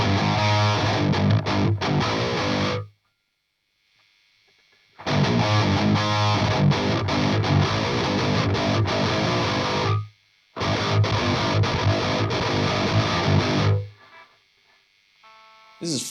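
Heavily distorted electric guitar, boosted through a Fortin 33 or Kraken pedal, chugging loudly in bursts, with two brief silent gaps and a faint hiss trailing at the end.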